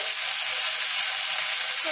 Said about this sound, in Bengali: এটাকে একটু সময় নিয়ে একটু খানিকক্ষণ ভেজে নেব।